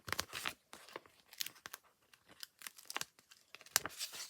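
Paper backing peeled from a card-making tag piece, close and quiet, with a run of short crinkling tears and rustles coming in uneven bursts, no voice.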